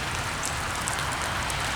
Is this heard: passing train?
no